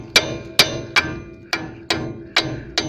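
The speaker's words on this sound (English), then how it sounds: "What I usually do is get a hammer, and I'll start these pins. I'll give them a little wrap on this side" A hammer taps the brake pad retaining pins on a Mercedes-Benz ML during a brake pad and rotor job: seven sharp, close metallic raps at a fairly steady rhythm, each with a short ringing decay.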